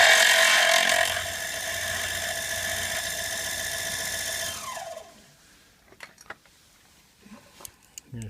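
A Giraud power case trimmer trims 6.5 SAUM brass cases, giving a loud steady whirring, squealing motor tone with strong harmonics for about five seconds, then winding down to quiet handling clicks and small taps.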